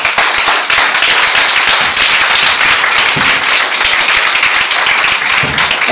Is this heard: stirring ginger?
no